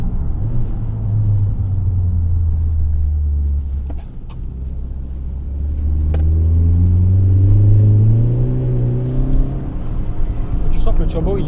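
A 2012 Ford Focus ST MK3 wagon with a 2.0 EcoBoost turbo engine rumbles low and pulls under acceleration, its pitch rising and falling through the gears from inside the cabin, while someone talks over it.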